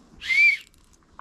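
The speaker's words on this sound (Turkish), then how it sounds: "Düdük çalarsan gelirim ben. Hemen çalayım şöyle." A single whistle blown once at a rural village house, a clear shrill tone lasting about a third of a second, loud and close in an otherwise quiet setting.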